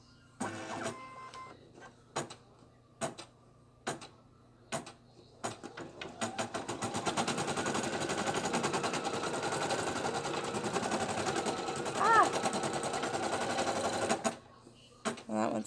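An embroidery machine stitching a small 4-inch 3D bow with bobbin thread sets up a steady, close mechanical whirring after a few isolated clunks. It runs continuously for several seconds with a faint voice over it, then stops abruptly near the end.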